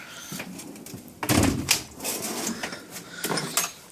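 A wooden air tool drawer slides open with a scrape and a bump, followed by a few softer knocks and rattles close by in a garage.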